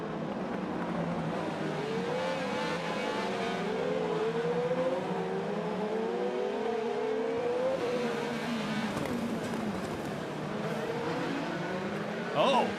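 An IndyCar race car engine drones loud and steady from onboard at the Detroit Grand Prix street circuit, its pitch rising and falling through gear changes, with faint commentary underneath.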